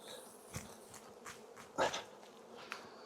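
Honey bees buzz while being shaken off a hive frame, a soft steady hum with a few sharper thumps and a louder swell of buzzing midway, no voices.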